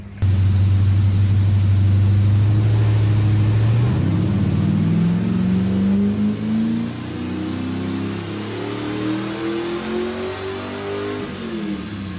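A Mazda MX-5 (Miata NC) with a swapped LS1 V8 and new cam revs hard on a dyno. It starts from a loud low rumble, then climbs in one continuous rising wail as revs build, and stays loud and close throughout.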